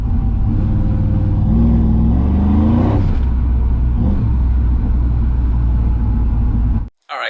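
Supercharged 1995 Ford Lightning truck driving, a steady engine drone with a rising whine, loud and close throughout, cutting out abruptly near the end.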